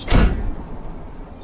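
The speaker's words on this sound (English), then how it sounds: "Sound effects of the desert oasis outside doors banging shut." A single loud door bang shuts outside at a desert oasis, a sharp close thud followed by quiet outdoor ambience and a faint high-pitched whine.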